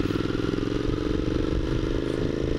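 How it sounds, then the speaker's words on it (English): A Honda CX motorcycle engine idles and runs with its baffles removed, a steady throaty rumble with rapid firing pulses, close and even throughout, no talking. "I can't get over how this bike sounds, especially without the baffles in."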